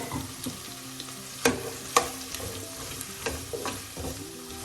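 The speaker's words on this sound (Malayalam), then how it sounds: "ഉരുളക്കിഴങ്ങ് ഒന്ന് ഇതിൽ കിടന്ന് എണ്ണയിൽ കിടന്നൊന്ന് വാഴലിട്ട് ഒരു 2-3 മിനിറ്റ് ഒന്ന് ഇടയ്ക്കിടയ്ക്ക് ഇളക്കി കൊടുക്കണം" Potato pieces sizzling in hot oil in a pan as they are stirred for a potato and lady's finger stir fry, a steady frying hiss broken by a few sharp scraping clicks of the spoon against the pan.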